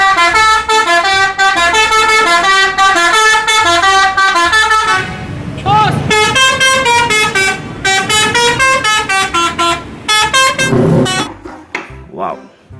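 Pala Kencana bus horn sounding as a loud, sustained musical melody horn with repeated tonal phrases, briefly broken by a noisier passage before the tune resumes and fades near the end.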